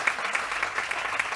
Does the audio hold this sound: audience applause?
yes